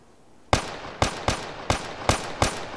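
A Thompson submachine gun fires in Arma 3 during a fight with super mutants, sharp loud single shots spaced roughly every third of a second, each a crisp crack with a short ringing tail, close and unaccompanied by talk.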